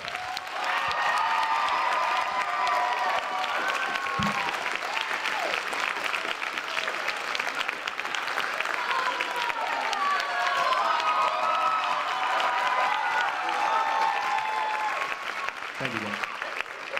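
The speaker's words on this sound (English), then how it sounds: "One more round of applause for our seniors." Audience at a high school chorus and orchestra concert clapping steadily and loudly, a sustained round of applause with scattered cheers throughout.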